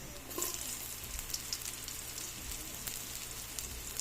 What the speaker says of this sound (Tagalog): So, binisa ko na guys ang bawang. Mix na natin guys ang sibuyas.